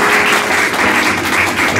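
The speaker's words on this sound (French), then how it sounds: "On applaudit le Seigneur." Church congregation applauding together after a sermon, a short dense burst of steady clapping filling the room, loud and even with no talk over it.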